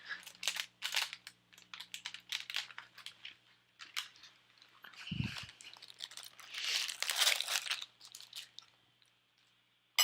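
Oreo cookie packaging grabbed and crinkled up close, a run of crackly plastic rustles and crunches in several bursts, with a brief low thump midway; no talk.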